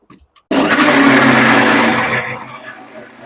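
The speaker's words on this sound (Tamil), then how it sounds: "இன்னும் கொஞ்சம் நான் அரைச்சி எடுத்துக்க போகிறேன் நல்லா மையாக அரையணும்" A mixer grinder whirs loudly and steadily as it grinds soaked rice and fenugreek into batter for fenugreek kali. It starts abruptly after a brief quiet moment and eases slightly toward the end.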